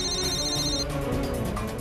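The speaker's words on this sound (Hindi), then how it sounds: "बार बार फोन आ रहा है।" A telephone rings with a bright, repeating electronic ringtone, the tone pattern clear at first and then fading under a dramatic music bed during a tense indoor scene.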